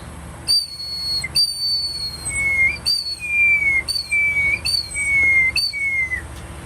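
A simple handmade eagle whistle blown in a series of about six shrill, piercing chirps with short gaps, close and loud, with no talking.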